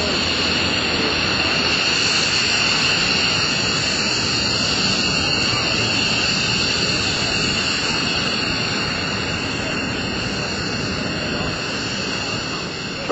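Lockheed C-130J-30 Hercules approaching to land at an airshow, gear and flaps out: a loud, sustained turboprop drone with high whining tones, an announcer talking over it throughout.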